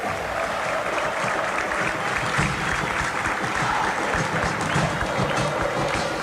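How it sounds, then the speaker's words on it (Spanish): Stadium crowd at a Paraguayan league football match between Cerro Porteño and Trinidense applauds a player leaving on a substitution, a broad steady roar of clapping and cheering heard from a distance. "Ovacionado se va, ¿eh? Así es, Arturo, aplaudido."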